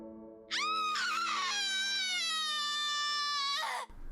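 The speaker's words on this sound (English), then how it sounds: "A scream ripples through the air." A single sustained, high-pitched scream cries out in The Letter video game for about three seconds, loud and close, rising sharply at the onset and cutting off abruptly.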